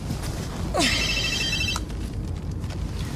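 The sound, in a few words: telephone ringing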